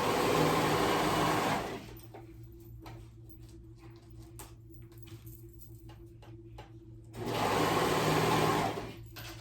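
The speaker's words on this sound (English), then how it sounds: "sew that in my serger is I'm going to go right at the edge" A serger stitches elastic onto fabric edge in two loud bursts of fast whirring at the start and end, with quiet handling clicks and a low motor hum in the pause between.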